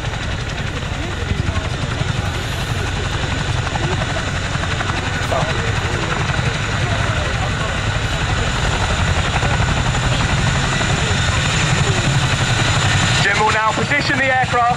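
An RAF Chinook twin-rotor helicopter flies at an outdoor air show, a loud continuous rotor thump and engine roar held throughout, with a public-address voice talking over it.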